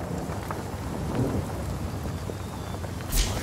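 Rain spell in Divinity Original Sin EE: steady rain hiss with low rumbling thunder, and a louder crackling strike near the end, with no voices.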